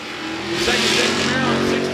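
A second-generation Camaro and a 1969 Dodge Dart launching down a dragway, engine roar rising to a loud, throaty rev over about two seconds, with an announcer's voice over it.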